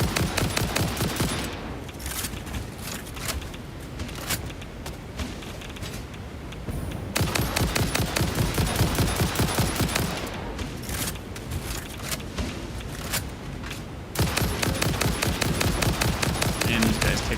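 Sustained automatic gunfire aimed at enemies in the video game Satisfactory, dense rapid shots in long bursts with a few short breaks, loud and close, with no talking.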